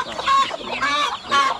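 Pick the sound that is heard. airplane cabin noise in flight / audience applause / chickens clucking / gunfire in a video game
chickens clucking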